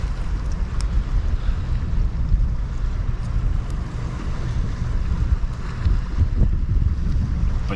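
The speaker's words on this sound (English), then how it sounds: "the wind has literally just picked up a little, so hopefully this doesn't all go flying." Steady wind blows outdoors by the water, buffeting the microphone with continuous broadband rumble and gusts throughout, loud and close with no voices.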